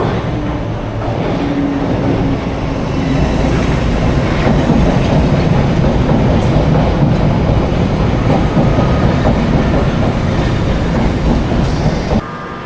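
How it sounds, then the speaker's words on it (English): A London Underground train rolls into the Heathrow Terminal 4 platform with a loud, sustained rumble and clickety-clack of wheels, close by and continuous, ending in a brief squeal as it slows; no one speaks. "My train should be the next one in"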